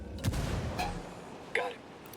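A grenade exploding in a video game, a few muffled booms and rumbling blasts in quick succession, fairly close, with faint voice sounds in between.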